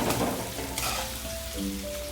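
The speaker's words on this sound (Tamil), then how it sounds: "தக்காளி வெங்காயம் நல்லா வதங்கிருக்காங்க." Tomato and onion sautéing in oil for a drumstick gravy, a continuous close sizzle with light crackling and some stirring, no voices.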